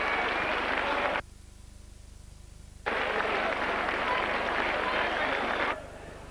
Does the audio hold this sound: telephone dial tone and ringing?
no